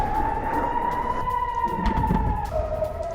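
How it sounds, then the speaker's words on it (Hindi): A steady wailing air raid siren tone holds across the clip, dropping slightly near the end, over a rumbling background with no talk, during a terror attack in Turkey. "एयर रेड अलर्ट सायरन से गूंजा"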